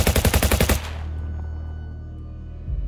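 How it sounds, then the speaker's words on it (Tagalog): Rapid automatic gunfire fired at aswang creatures rattles out in a loud, fast burst of about a dozen shots, then cuts to a low rumbling drone that lingers. "Agad naming binaril ang mga aswang."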